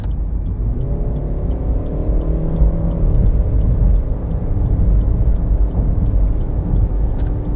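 A 2016 Suzuki SX4 with automatic transmission hums steadily while driving, a loud continuous low drone with a slight rising pitch as it accelerates, heard from inside.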